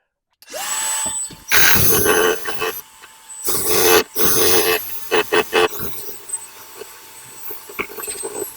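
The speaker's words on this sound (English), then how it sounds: "I'm going to take my vacuum." A vacuum cleaning out a household dryer vent starts up and roars in several loud bursts, cutting on and off with short pauses, then continues with a lower, choppier whirr.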